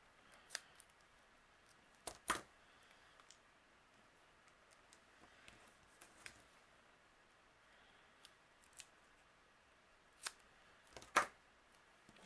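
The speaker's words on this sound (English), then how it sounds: "I'm gonna cut one of my foam squares." Scissors cut through a foam square during card making, giving a few quiet, crisp snips and clicks spaced apart against a hushed indoor background.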